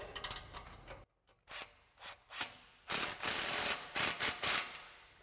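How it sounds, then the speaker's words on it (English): A hand ratchet fitted with a 15mm socket tightens an exhaust clamp on a Jeep Gladiator JT dual exhaust, giving close, crisp clicking strokes in short bursts separated by brief pauses, with no talking. "Then we can take our 15mm socket and snug up our clamp."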